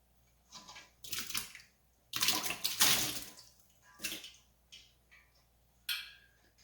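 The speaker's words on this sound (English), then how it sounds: "we actually want to let a lot of that hot water trickle out so that we don't put it in with our cold water" Hot blanching water trickles and splashes out of a pot of broccoli into a sink, coming in uneven bursts of pouring with short pauses between them, close by and with no talking.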